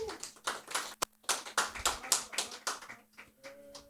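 Audience applause at an award ceremony, a steady burst of clapping from many hands lasting several seconds, fairly close and with no talk over it.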